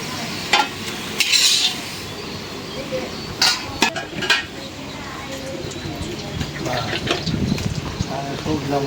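Spices being stirred vigorously in a hot frying pan (kadai), with sharp scraping clatters and a low sizzle running underneath, while people talk nearby.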